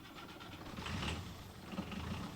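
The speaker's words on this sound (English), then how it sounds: "the forklift, once it got the fresh battery, it starts at one crank" A forklift fitted with a Mercedes 180 engine and a fresh battery cranks and fires up, its low diesel rumble swelling and then settling into a rough idle, heard at some distance and fairly quiet.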